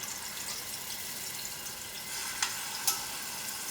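A garlic and ginger mix sizzles steadily in heated vegetable ghee, a continuous bright hiss broken by two short crackling pops near the end, with no talking.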